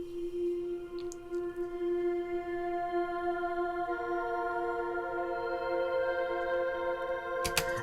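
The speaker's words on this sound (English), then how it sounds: "Oh yes, East-West Voices of Passion, which is something I use all the time." East-West Voices of Passion vocal sample library playing a sustained, airy wordless voice tone that holds steady and then shifts pitch, moderately quiet over a soft background hiss.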